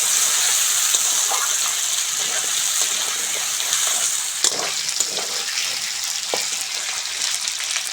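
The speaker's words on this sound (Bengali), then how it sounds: "কেটে ধুয়ে রাখা আলু আলুটা ভালো করে ভেজে নেবো" Cut, washed potatoes fry in a hot pan with asafoetida in a home kitchen, a continuous close sizzle with occasional scraping stirs and a sharp clatter midway.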